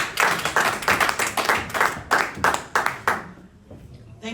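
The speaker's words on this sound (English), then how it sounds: "So give a big round of applause to our sister Tufan Bilaba." Applause from an audience at an evening community event in Brooklyn, greeting City Council District 46 candidate Tufan Bilaba: close, clattery clapping in bursts of separate claps that thins out and fades near the end.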